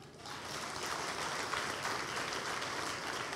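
An audience at a motivational talk in Pune applauding, dense steady clapping from many hands that holds evenly throughout without a break.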